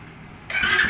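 A 2020 Mini Trail 125cc K3 manual-clutch motorcycle is started: quiet at first, then a sudden, loud burst of engine sound about halfway through that holds steady to the end.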